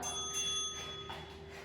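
A workout timer bell rings with a sustained, steady metallic tone during a home Tabata strength and cardio session, clear and continuous throughout.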